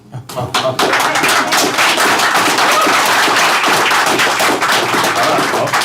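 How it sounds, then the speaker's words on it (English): An audience at a county commissioners meeting applauds, a dense, loud, sustained wash of clapping that starts abruptly and continues throughout. "Hold your applause."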